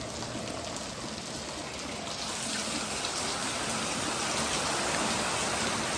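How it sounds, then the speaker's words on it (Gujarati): Heavy rain with strong wind lashes down around a neem tree, a dense, steady roar of falling water that stays loud and unbroken throughout, swelling slightly toward the end, with no voices. "અત્યારે ફૂલ પાછો વરસાદ ને ફૂલ પવન"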